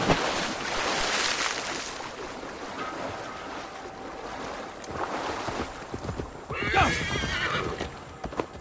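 A horse in Assassin's Creed Valhalla whinnies clearly and its hooves clip-clop in the game world, with splashing water and wind around, the neigh rising near the end.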